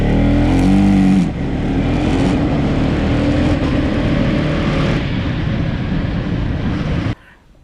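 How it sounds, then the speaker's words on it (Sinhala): A KTM Duke 250 motorcycle engine roars loudly and continuously under acceleration, with brief dips in pitch as its quickshifter clicks up through gears without the clutch, ending in a sudden cutoff. "clutch එක අල්ලන්නේ නැතුව accelerator එක අතාරින්න නැතුව උඩට ගියර් දාන්න පුළුවන්"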